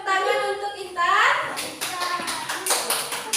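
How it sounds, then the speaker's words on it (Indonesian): Children in an Islamic history class clap for a classmate named Intan, a burst of close, scattered claps following a teacher's voice, with kids' chatter mixed in. "tepuk tangan untuk Intan"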